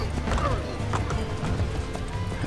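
Horse hooves from a ridden horse in the video game Assassin's Creed clop in a quick, steady rhythm, close and prominent, with a voice faintly underneath.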